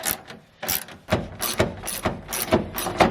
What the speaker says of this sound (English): so we'll use a 10mm to remove these bolts.